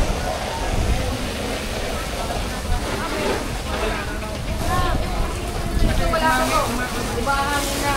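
Wind at a residential compound fire in Calamba City: steady gusty rushing and rumble buffeting close against the microphone, with people talking faintly underneath.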